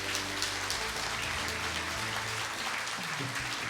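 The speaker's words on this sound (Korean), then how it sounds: "큰 박수 부탁드립니다" Applause fills a hall at a university farewell ceremony for a president of Pusan National University. It is steady and dense from many hands, continuous throughout, with no voices over it.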